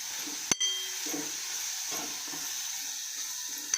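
Turmeric, asafoetida and coriander powder sautéed in a pan for a rajma curry, giving a steady soft sizzle with a sharp utensil clink near the start and light stirring scrapes throughout.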